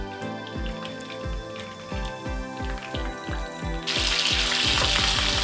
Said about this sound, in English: But first you have to pan fry both sides.